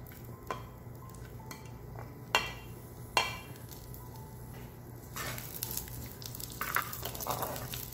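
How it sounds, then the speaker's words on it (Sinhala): Curry leaves dropped into a little oil for tempering a Sri Lankan garlic curry give a quiet sizzle with a few sharp metal clinks. The spluttering crackle grows busier and louder toward the end. "මං තෙම්පරාදුවට මේ වගේ තෙල් පොඩ්ඩක් එකතු කර ගන්නවා ඊළඟට කරපිංචා බීලුණු ටිකත් එකතු කර ගන්නවා"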